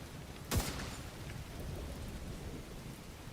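Rain and thunder in the video game The Division 2: a sudden crack of thunder cuts through a steady, loud downpour of rain that keeps going throughout.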